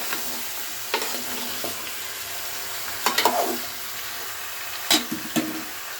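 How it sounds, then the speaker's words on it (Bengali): Meat curry with potatoes and browned onions is stirred in a pan over a continuous sizzle, with irregular scraping strokes of the spoon close by, some in quick clusters. "এবার আমি এটা নাড়িয়ে দিচ্ছি। এভাবে নাড়াতে হবে, বারবার ধরে কিন্তু নাড়াতে হবে।"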